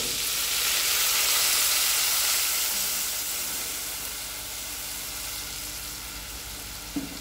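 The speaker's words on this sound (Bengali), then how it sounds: "এবার আমি উপর থেকে কিছু গরম জল দিয়ে দেবো।" Fried mutton for a Mughlai mutton curry sizzles loudly in a pot as hot water is poured over it, a broad steady hiss that swells early and then settles into a softer continuous bubbling, with a small clink near the end.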